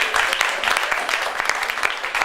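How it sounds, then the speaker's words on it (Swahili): An audience at a 2018 anniversary celebration claps in a brief, dense burst of applause, many hands together at close range. "Muwapigie makofi na waomba."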